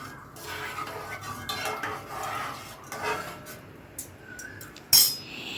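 A spoon stirs a watery mixture of rice flour and tomato in a pan over a high gas flame, giving soft scraping and light clinks against the metal, with a sharper clink near the end.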